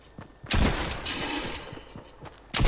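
Shotgun blasts in the Fortnite video game, with a loud close shot followed by a noisy rumbling tail and scattered smaller impacts, then another sharp blast at the very end.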